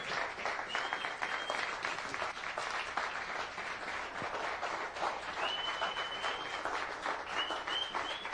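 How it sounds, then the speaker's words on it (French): A church congregation claps for the Lord in sustained, dense applause that fills the room for several seconds, with faint high tones drifting over the clapping. "clap for the Lord"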